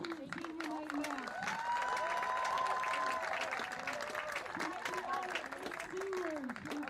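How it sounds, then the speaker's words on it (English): Crowd applause for a boys varsity soccer team on senior night, steady clapping mixed with crowd noise and a voice speaking over a PA system throughout. "Let's give these boys a round of applause for an excellent senior night match."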